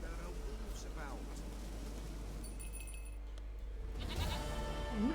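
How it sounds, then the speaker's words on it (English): A goat in The Witcher 3 bleats several times over game ambience and a low hum, with short calls near the start and again toward the end, and someone talks over it. "Al, keçini getirdik."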